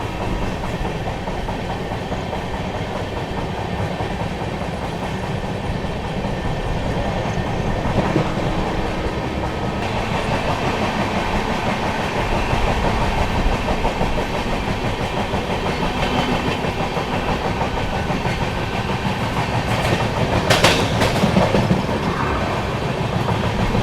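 The 12303 Poorva Express runs on the rails near Fatehpur, a loud, continuous close rumble with rhythmic clickety-clack of wheels over rail joints, with no talk.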